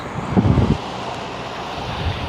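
Steady wind buffeting a microphone while cycling by a river near the ocean in Peru, with a brief louder rumbling gust near the start, then a constant blustery roar.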